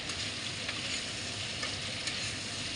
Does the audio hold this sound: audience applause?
no